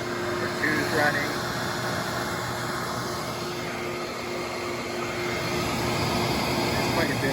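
A Camvac 90L dust extractor with two motors running gives a dense, unbroken roar and airy whoosh with a steady tonal hum, heavy and close for the whole stretch.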